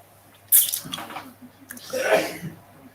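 A single sharp sneeze bursts out close by, followed by some faint rustling and a softer breathy noise.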